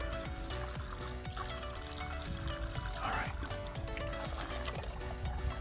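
Cold natural spring water pours steadily from a pipe spring out in the woods along a trail, a continuous splashing stream close by with a brief spoken word over it.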